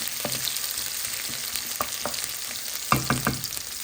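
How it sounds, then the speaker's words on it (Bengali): Eggplant and tomato chutney sizzles steadily in a pan, with a spoon scraping and stirring in several distinct knocks, the clusters growing denser toward the end. "একটু নেড়ে চেড়ে আমি বেগুন টমেটো সব একসাথে দিয়ে দিব"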